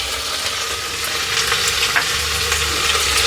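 Mint leaves frying in oil in a pot for a bachelor-style biryani, a steady close hiss and crackle, alone and fairly loud throughout.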